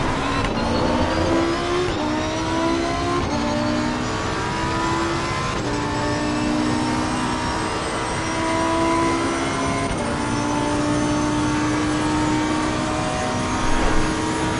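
A race car engine in the Assetto Corsa Competizione racing game roars continuously, climbing and dropping in pitch through gear shifts and throttle changes, loud and sustained with no talk over it.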